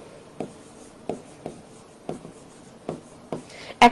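Chalk or marker strokes on a classroom board during a live biology lesson, six short separate taps and scrapes spread across a few seconds and ending in one louder stroke, fairly close, with no talking.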